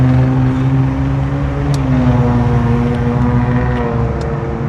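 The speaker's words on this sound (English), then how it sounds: "You can definitely tell that's a V6 Genesis." Engine of a V6 Genesis car while driving, a loud, steady, close drone with strong low harmonic bands that drift slightly in pitch and hold constant without any other sound.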